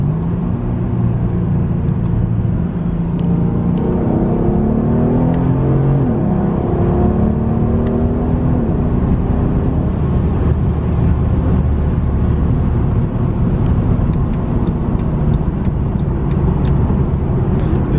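A Mercedes CLS 550 fitted with a Magnaflow X-pipe exhaust accelerates in manual mode from second gear on a freeway, giving a loud, steady engine drone with tire and road roar throughout, heard from inside the car.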